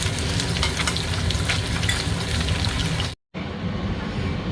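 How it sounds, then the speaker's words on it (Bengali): Small fish fried in oil in a home kitchen, a dense, loud, continuous sizzle with crackles and stirring, briefly cut to silence before the frying resumes. "মাছগুলো ভালো করে ভেজে নেব"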